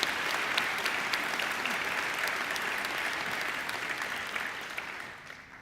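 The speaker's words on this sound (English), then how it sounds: "Peter deserves another great round of applause for a really great occasional address." Sustained applause from a large audience at a university graduation ceremony after an address, dense clapping that holds steady and then gradually thins out at the end.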